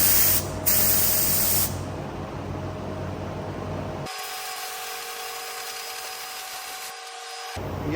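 A spray gun shoots epoxy primer onto prepared metal with a loud, continuous close hiss. The hiss holds steady for several seconds, then the gun's tone shifts and it keeps spraying with a smoother, more tonal rush.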